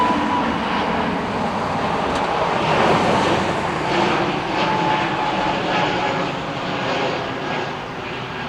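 A Frontier Airlines airliner passes overhead with a loud, continuous jet roar that swells and slowly fades, heard alone.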